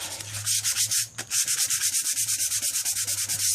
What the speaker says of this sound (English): Go over it with the sandpaper, and then the Scotch-Brite, and then the sandpaper